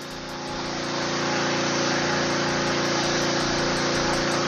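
A Philking PK160A portable inverter welding generator runs under load powering two power tools and a welder, a dense continuous engine drone with a rapid pulsing buzz that builds in the first second and then stays loud and steady.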